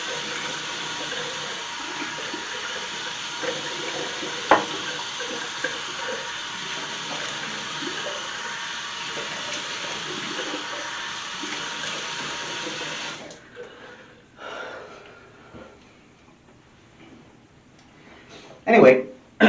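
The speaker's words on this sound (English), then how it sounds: "I'm going to splash some water on my face and we're going to get lathering up." A bathroom sink tap runs steadily as water is splashed onto a face, a broad continuous rush with a few splashes, then the flow stops and a voice speaks over quieter handling noises.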